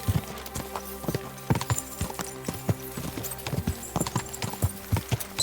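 A horse gallops in Kingdom Come: Deliverance II, hooves pounding in a fast, steady clip-clop rhythm close by, carrying on without pause against faint game ambience.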